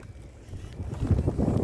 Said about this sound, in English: This wind is testing my patience with me, Brolly, I'm afraid.